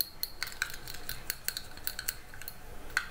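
Homemade beige nude nail polish stirred briskly in a small container, a fast run of light clicking and scraping taps from the stirring tool against the sides, close and alone.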